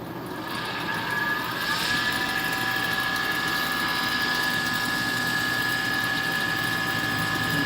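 A wood lathe runs up toward its top speed, roughly 3,700 rpm, with a steady loud mechanical whir and a sustained high whine that climbs and then holds.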